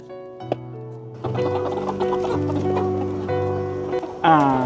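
Chickens clucking inside a chicken house, a busy overlapping flock chorus that stays close and steady throughout, with a louder squawk near the end.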